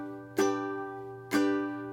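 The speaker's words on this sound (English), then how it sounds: "just playing down strums" Two ringing down-strummed chords on a GCEA-tuned ukulele, about a second apart, each fading slowly after a bright attack. The instrument is close and fairly quiet, with no talking.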